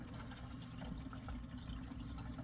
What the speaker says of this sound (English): it fills the entire canister